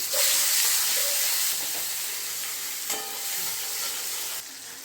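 Ginger, cumin powder and chopped tomato sautéing in a hot pan for a banana-flower dish, a loud continuous sizzle and hiss with stirring scrapes, close up and unbroken.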